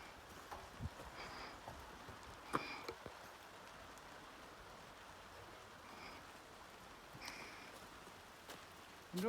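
Rain falls outdoors at a woodland shelter build site, a faint, steady hiss with scattered soft drips and light taps throughout.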